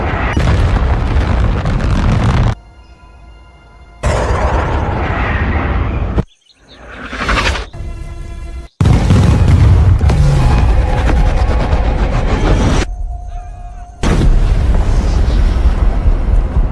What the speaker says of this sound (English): Kenny, drop that fucking bomb